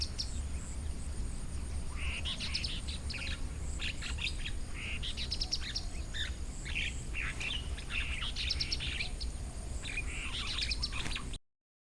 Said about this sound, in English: Enjoy this chestnut-capped babbler.